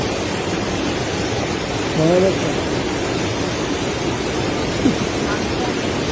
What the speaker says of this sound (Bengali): স্রোতে সেই শব্দ হচ্ছে